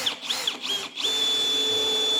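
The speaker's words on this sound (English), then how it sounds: "I'm gonna drill a pilot hole" A battery-powered drill bores a pilot hole into drywall, whining through two short revving bursts before settling into one steady, loud high-pitched run close by.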